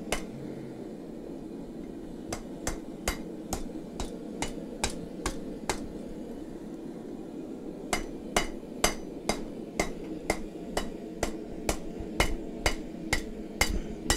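Railroad spike hammered on an anvil while forging bottle openers, with a chain draped over the anvil; sharp metallic hammer strikes ring out in two steady rhythmic runs, close and clear, over a low background hum.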